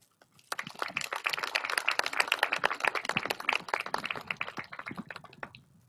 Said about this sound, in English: I'd love to give a round of applause for each of all of you